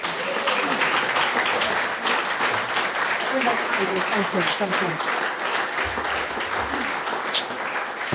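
An audience breaks into sustained, steady applause to welcome lecturer Estelle Morris at the Fred Jarvis Memorial Lecture 2024, a dense wash of many hands clapping that carries evenly from start to finish.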